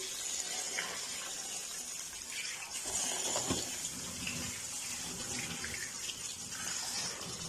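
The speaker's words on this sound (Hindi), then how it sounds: "इसको बॉईल करने के बाद हम ठंडा पानी डालकर छान लेंगे" Cold water runs steadily from a tap over boiled noodles draining in a sink, a continuous splashing rush with occasional clatters, close by and moderately loud.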